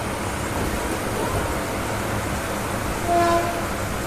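A moving Jan Shatabdi Express train from Ahmedabad to Ekta Nagar, heard from inside the coach as a steady loud rumble of wheels and carriage noise, with a brief faint tone near the end.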